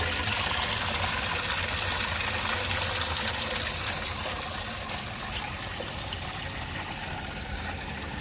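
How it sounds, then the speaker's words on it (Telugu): Water gushing from a pipe into a bucket, a loud, steady, hissing splash that runs unbroken throughout and eases slightly as the bucket fills. "ఆల్మోస్ట్ బకెట్ ఫిల్ అయిపోయింది"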